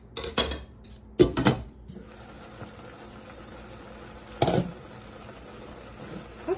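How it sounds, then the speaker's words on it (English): A spoon scrapes and clinks against a metal cooking pot of rice pudding in a few short bursts, then the lid clatters on, with a quiet simmer between. "I will stir a little like that and cover it."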